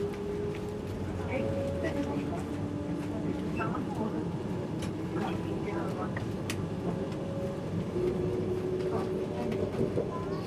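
Steady rumble and rattle of the Chennai–Coimbatore Vande Bharat Express moving at speed, heard from inside, with a voice talking over the continuous running noise.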